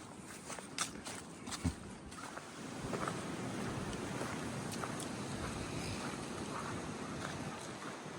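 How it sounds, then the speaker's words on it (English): Wind gusts across an exposed mountain trail on the Appalachian Trail, buffeting the microphone in a steady roar with a few footstep-like thumps and knocks early on, no voices. "It's getting a little windy up here."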